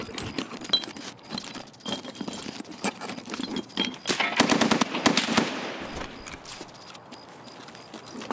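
Rapid automatic gunfire in the video game Escape from Tarkov crackles in dense bursts that peak midway and then thin out, over a background of footsteps and gear rattle, with no talking.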